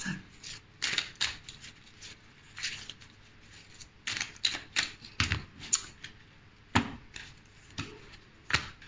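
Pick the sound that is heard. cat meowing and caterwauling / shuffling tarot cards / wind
shuffling tarot cards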